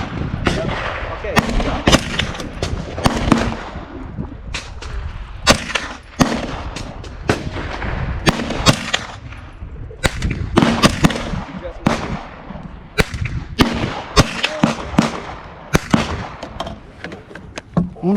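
Gunfire at the Calverton shooting range on Long Island, sharp loud reports cracking one after another in a dense, irregular string, some overlapping, with voices talking in between.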